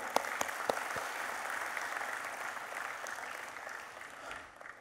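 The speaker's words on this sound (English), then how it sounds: "let's have a huge round of applause for Mr. Praful Patel" Sustained audience applause fills a book launch event for a pictorial biography, a dense steady patter of many hands clapping with a few sharper claps early on, fading slightly toward the end.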